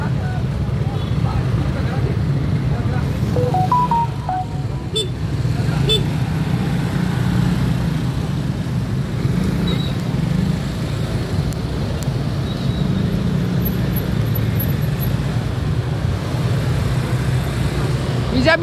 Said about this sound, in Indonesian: macet, nggak bisa bergerak